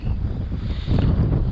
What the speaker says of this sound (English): It's windy, man.